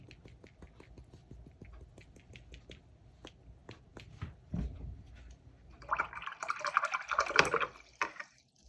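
A brush flicks loose paint onto a fruit still-life painting: a string of soft, close taps builds into a brief burst of wet spattering, quiet overall and with no voices.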